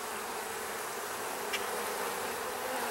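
Honey bees swarm and drone steadily at an open hive, a dense continuous buzz that stays close and even throughout with no voices.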